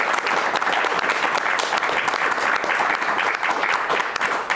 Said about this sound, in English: a big round of applause for the speakers, please